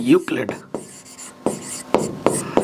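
Handwriting of a maths solution, Euclid's division steps for finding an HCF, with short scratchy pen strokes in bursts, close by, between and under a man's speech.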